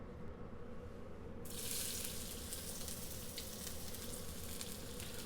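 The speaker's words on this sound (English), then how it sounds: "so in goes the onions" Onions dropped into hot olive oil in a London kitchen for vegan egg fried rice, with a quiet background hum that bursts into a steady, loud sizzle partway through and keeps hissing to the end.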